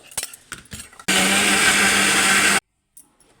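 A mixer grinder jar blends strawberries with sugar for a milkshake, roaring loud and steady for about a second and a half before cutting off abruptly, with a few quieter clatters and knocks before and after.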